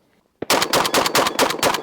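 A Beretta 1301 semi-automatic shotgun fires a rapid magazine dump, about ten loud, close blasts in quick, even succession after a brief silence, with no voices.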